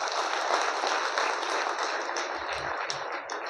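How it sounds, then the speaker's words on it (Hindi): An audience at an indoor business seminar applauding, a dense, steady burst of many hands clapping that carries through the whole stretch, with a few louder nearby claps and thumps toward the end. "ज़बरदस्त ताली लगाइए अपने लिए।"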